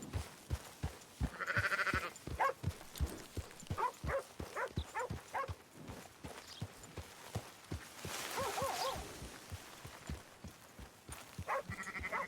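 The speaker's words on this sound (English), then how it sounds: "I guess I could steal these sheep" Sheep in Red Dead Redemption 2 bleat repeatedly at a moderate distance, mixed with a steady run of clopping hoof steps throughout.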